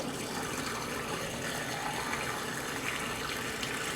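Leftover water from an electric kettle is poured into a sink drain, making a steady, continuous splashing gush that fills the whole moment at an even level.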